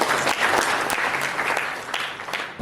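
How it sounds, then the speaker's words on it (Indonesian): Audience applauding at a university public lecture in Banyuwangi, a dense steady burst of clapping filling the hall for a few seconds, fairly loud and close, tapering slightly at the end. "Tepuk tangan."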